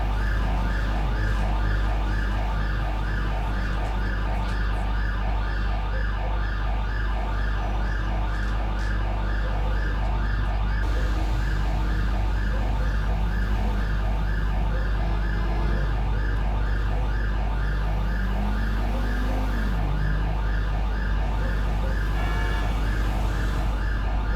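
Wailing ambulance siren in a police-mod driving game with a Ukrainian setting, a steady cycling electronic tone over a constant low engine drone, continuing throughout without talk.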